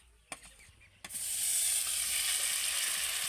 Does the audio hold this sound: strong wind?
no